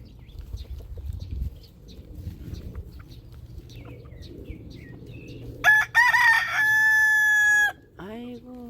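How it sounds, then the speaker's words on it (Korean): Rooster crowing at a rural house on a spring morning: one loud, close crow lasting about two seconds, after faint distant birdsong over low outdoor rumble. "새들이 노래하네"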